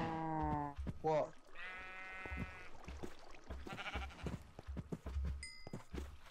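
Sheep in the Minecraft video game bleat loudly and repeatedly in wavering, stuttering cries, some layered together, with a player talking between them.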